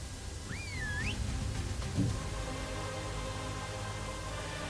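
Whistle attack command in the video game Ark Survival Evolved: a single short rising-and-falling whistle near the start, followed by a faint low thump over quiet game ambience.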